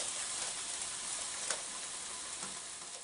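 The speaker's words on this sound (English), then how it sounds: "And so in goes my dough" Pizza dough sizzling in hot oil in a pan, a steady, dense crackling hiss that holds evenly throughout with a few brighter pops, close up and with no talking.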